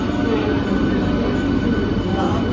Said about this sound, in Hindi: तो मेमू एक्सप्रेस का डिपार्चर हो गया